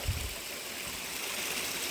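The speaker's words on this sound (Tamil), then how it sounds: "அங்கேருந்து வர தண்ணி எல்லாமே இதில் வந்து ஒழுகி" Water trickling and flowing steadily down a channel in an Irular tribal village, a close, continuous gurgle with no talking.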